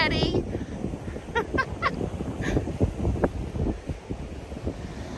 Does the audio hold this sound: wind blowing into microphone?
yes